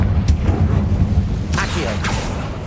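Confringo explosion spell cast in Hogwarts Legacy, a deep rumbling boom that lingers, with sharper magical bursts on top and speech from the game around it.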